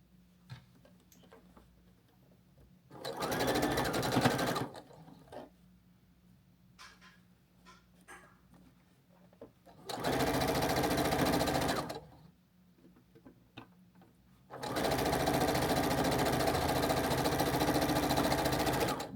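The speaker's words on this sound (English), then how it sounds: "So then you're going to sew this on like this." A sewing machine stitches quilt block fabric pieces in three steady runs of rapid, even needle chatter, the last one longest, with quiet fabric handling in the pauses between.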